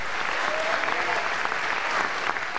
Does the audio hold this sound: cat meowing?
no